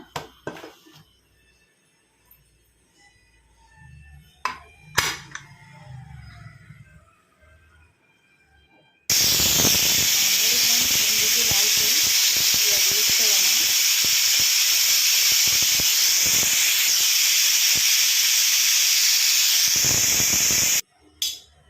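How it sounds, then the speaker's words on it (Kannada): A pressure cooker holding sprouted chickpea sambar bursts into a loud, steady hiss of escaping steam for about twelve seconds, after a quiet stretch of light kitchen clatter. "ಈಗ ಕುಕ್ಕರ್ ಮುಚ್ಚಿಬಿಡೋಣ ಫ್ರೆಂಡ್. ಒಂದು ವಿಜಿಲ್ ಹಾಕ್ಸೋಣ."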